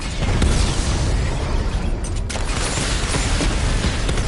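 A missile barrage in the video game Batman Arkham Knight, a dense rolling chain of loud explosions and bursts filling the whole stretch without pause.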